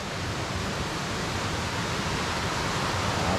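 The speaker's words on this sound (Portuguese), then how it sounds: "Tá com bastante água, choveu a noite inteira." A stream swollen after a night of rain rushes steadily in a dense, unbroken roar of flowing water, loud and close with no voices.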